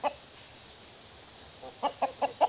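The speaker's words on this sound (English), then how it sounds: "Kinsley, the rooster wants your toy" A rooster gives four short clucks in quick succession, clear but not loud, with a fainter cluck at the very start and quiet between.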